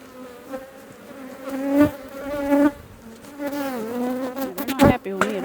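Honeybees swarm and buzz loudly around an opened hive during a late-autumn check before winter, an agitated hum that swells and dips with sharp close passes near the microphone.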